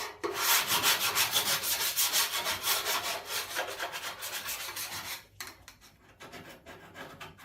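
Paint scraper flaking old iron phosphate coating off rust-treated metal on a classic car or truck: close, steady rhythmic rasping strokes, loud at first, then thinning into quieter, scattered scrapes.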